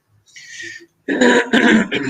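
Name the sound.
throat clearing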